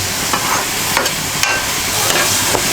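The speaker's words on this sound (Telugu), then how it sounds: "ఉల్లిపాయ మంచిగా దోరగా వేగాలి" Onions and green chillies frying in oil for a drumstick coconut curry, a loud, close, continuous sizzle with a few sharp spatula scrapes, no talk.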